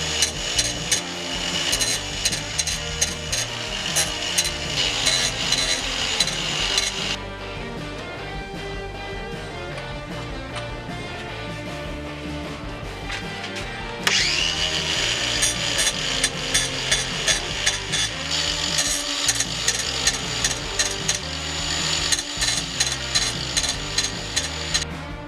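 Metal cage bike pedals are sharpened with a power tool, a loud continuous grinding and rattling whine that drops to a quieter hum in the middle before returning at full strength.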